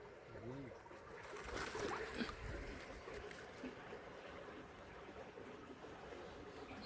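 Water flowing along a new creek channel, a steady broadband wash and trickle running throughout at moderate loudness, with a voice briefly heard near the start.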